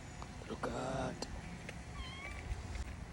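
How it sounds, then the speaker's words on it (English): A cat meows outdoors near neighbors, a few short cries over steady background noise, with a person's voice briefly heard nearby. "Come here, little kitty cat."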